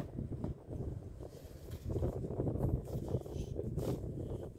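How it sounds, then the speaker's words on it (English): A strong outdoor wind buffets the microphone, a steady low roaring rumble that rises in gusts, close and continuous with no clear voices on top. "The wind current is brutalizing me, man."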